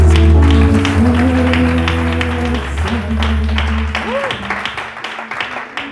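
A church congregation applauds during a lively worship service, dense sustained clapping filling the room over held musical tones, with voices rising now and then and the clapping thinning slightly toward the end.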